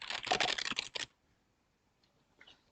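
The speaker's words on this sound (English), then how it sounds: "The crackling sounds are from my keyboard." A computer keyboard gives a dense, crackling burst of rapid key clicks for about a second, then falls nearly silent except for a few faint clicks.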